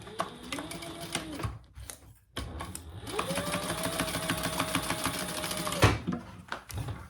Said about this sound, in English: so I'm just going to baste that in place.